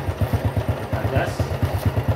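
A Honda motorcycle engine runs under throttle during a repair check, its close, steady pulsing beat thumping rhythmically for a couple of seconds without speech.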